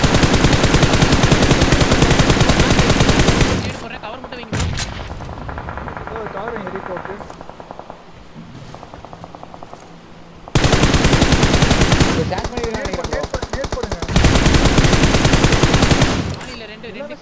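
Battle royale video game gunfire: long bursts of loud, rapid automatic fire, stopping and restarting, with quieter gameplay sounds between bursts and players talking over it.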